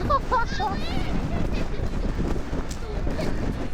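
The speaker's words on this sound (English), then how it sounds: "The wind is so strong." Strong wind at a foggy lake near Snowdon: a loud, constant low buffeting roar on the microphone, with a voice briefly speaking at the start.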